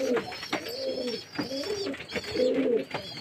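Pigeons in a loft give repeated soft, throaty coos in three rounded phrases, close and clear with no voices over them.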